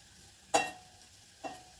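Mustard seeds hit hot oil in a kadhai while a prawn curry is started, giving two short crackling sizzle bursts about a second apart, fairly quiet and close with no talking.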